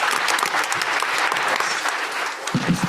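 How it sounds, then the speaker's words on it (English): An audience applauds a conference panel with a dense, loud burst of clapping that holds steady and then thins near the end as a voice begins. "let's give our panel another round of applause"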